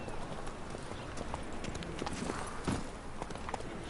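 Horse hooves clip-clop steadily at a riding pace in The Witcher 3, a continuous even rhythm heard close under a dense background of ambient game noise.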